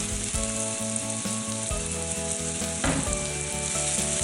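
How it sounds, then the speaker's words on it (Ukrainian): Finely chopped onion frying in oil in a hot pan, a loud, dense and continuous sizzle close by, with faint stirring and a steady hum underneath. "На розігріту пательню з олією викладаємо цибулю."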